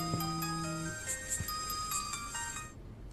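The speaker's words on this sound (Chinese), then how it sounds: "你稍等一下，我接个电话啊" A mobile phone ringtone plays a bright, repeating melodic tune for an incoming call, clear and fairly close, ending abruptly after about three seconds with no talk over it.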